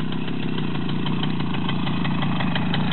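A small Romet motorcycle engine idles steadily at close range during clutch practice, a continuous even putter with no talk over it.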